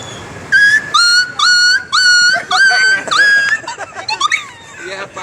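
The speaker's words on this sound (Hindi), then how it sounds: "एक कुत्ते की आवाज, जो कुत्ते के पत्थर मारते हैं।" A dog hit with a stone gives a series of high, sharp yelps and whimpers in quick bursts, close and loud, trailing off into softer whines.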